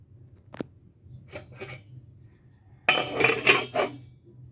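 Metal kitchenware clinks and clatters as a lid is set onto a frying pan after a fish soup is cooked, a few sharp taps first, then a louder burst of ringing scrapes and knocks close by.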